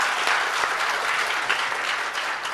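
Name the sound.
applause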